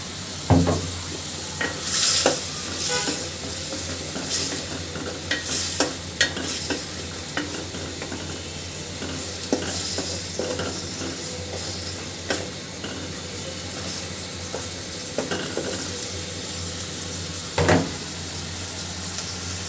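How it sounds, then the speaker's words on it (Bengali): Fish pieces fry in a thick spiced masala with garlic paste, a continuous low sizzle punctuated by scattered spatula clinks and scrapes at irregular intervals, close and moderately loud, without speech. "মশলাটা সুন্দর করে কষানো হয়ে গেছে, তো দিয়ে দিচ্ছি এর ভিতরে মাছগুলো"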